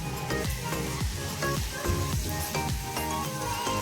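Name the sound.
rice boiling in pot for chicken biryani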